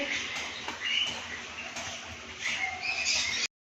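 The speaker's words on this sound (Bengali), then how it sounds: "আর চারিদিক থেকে পাখির আওয়াজ পাচ্ছ তো" Birds chirp and call from several directions on a cold, rainy winter day, small scattered calls heard over a soft patter of rain, no one speaking.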